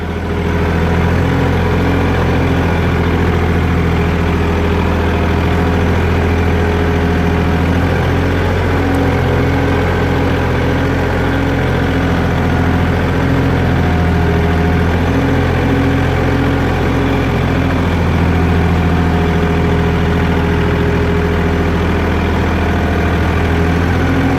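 A farm tractor engine runs steadily with a loud, constant low rumble and mid-range drone, close by and unchanging for the whole stretch, with no voices.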